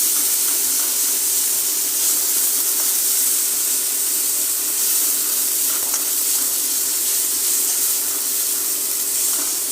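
Ginger garlic paste sizzles in a hot pan while it is sautéed for yakhni paneer. A loud, steady, hissing fry holds throughout, close to the pan, with no talk over it.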